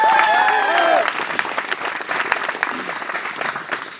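Loud applause from an audience at a career opportunity programme speech event fills the space, steady dense clapping that lingers and thins slightly, with a brief voice at the start.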